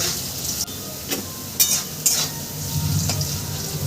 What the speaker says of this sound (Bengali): আমি আলুটা আগে ভেজে নিচ্ছি তারপর ভেন্ডিটা আমি ভেজে নেব